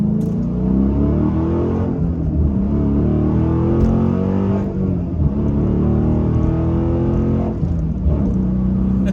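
Dodge Challenger SRT8 engine, a deep, loud V8 rumble that holds steady and swells in a few revving surges, heard close by and alone with no talking.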